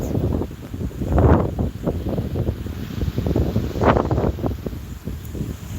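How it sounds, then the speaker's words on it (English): Wind blowing through trees outdoors, loud gusty rumble and buffeting across the microphone with rustling swells rising and falling throughout, no voices. "The wind is blowing good."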